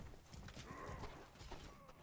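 Horse hooves clip-clopping in the medieval combat video game Mordhau, a quick run of faint thudding hoofbeats against soft battle ambience, with a brief whinny-like sound in the mix.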